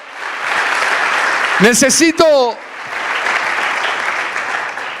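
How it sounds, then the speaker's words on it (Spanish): Church congregation applauding during a worship service, a steady broadband clapping that runs for the full five seconds, with a voice speaking loudly over it midway. "Dale una ofrenda de palmas al Rey."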